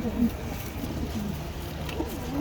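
Pigeons cooing softly at a loft with a wild pigeon among them, low murmuring coos under steady background noise.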